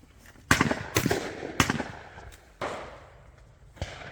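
Shotgun blasts ring out at an outdoor clay shooting ground during a rabbit target session, several sharp reports spaced irregularly over a few seconds with fading echoes, fairly distant.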